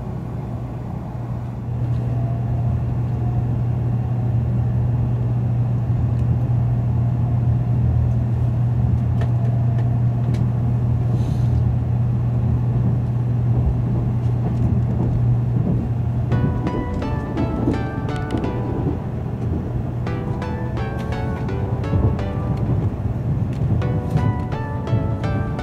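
A Nozomi Shinkansen train, heard from inside a Green Car, runs at speed after leaving Nagoya: a loud, steady rumble with a constant low hum, later joined by faint, scattered clicks and rattles.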